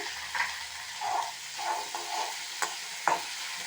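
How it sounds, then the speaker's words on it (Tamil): Tomato going into softened onions frying in a pan for a chutney, a soft steady sizzle underneath quiet bursts of spoon stirring and a couple of brief clinks. "இதுலேயே இப்போது தக்காளியே சேர்த்துடலாம் வெங்காயம் வந்து வதங்கிடுச்சு"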